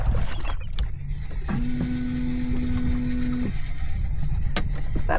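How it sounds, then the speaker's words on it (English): An electric fuel pump runs on a V8 turbo jet ski, giving a steady whining hum for about two seconds. It rises above a constant background rumble, with a few clicks before and after. "That's my fuel pump running."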